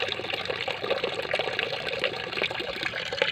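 Water runs steadily in a weak flow from a tap, a continuous splashing stream with no voices, close and moderately loud.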